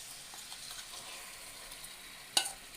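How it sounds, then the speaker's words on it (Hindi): Marinated meat going into a pan of frying softened onions, a soft steady sizzle with faint stirring scrapes and one sharp clatter near the end, low and close. "ये गोश्त जो हमने मसाला लगा के इसको मैरिनेट करके छोड़ा था, वो सारा हम इसके अंदर डालेंगे"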